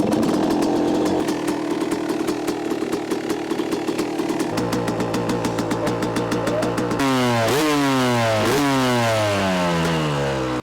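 A rebuilt Yamaha YZ250 two-stroke dirt bike roars on a test ride, its loud, ringing engine climbing and dropping through repeated sharp revs and gear changes, close and continuous with no talk.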